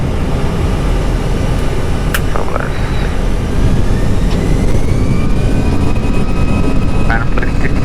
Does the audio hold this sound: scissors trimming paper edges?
no